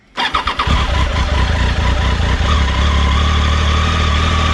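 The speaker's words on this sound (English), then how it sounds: "Let's start the bike." A 2018 Triumph Tiger 800 XCa motorcycle cranks briefly with a few rapid chugs, then fires up and settles into a loud, steady close-up idle.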